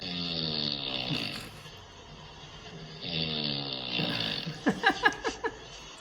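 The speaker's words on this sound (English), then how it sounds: "her snoring?" A person snoring in slow repeated rasping breaths, two long drawn snores with a gap between them, followed by a short burst of sharper gulping sounds near the end.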